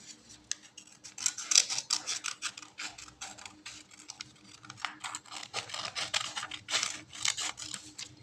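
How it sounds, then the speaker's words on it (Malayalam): Scissors snip through paper along a folded crease, a close run of crisp rasping cuts and rustles that comes in bursts with short pauses, no voices. "ആ ലൈനിന് നമ്മൾക്ക് വരാതെ കട്ട് ചെയ്ത് മാറ്റാം"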